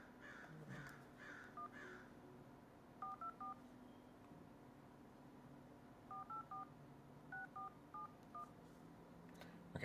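Telephone keypad dialing tones while placing a call, several short clusters of quick beeps, faint over a low background hum with a few crow caws early on.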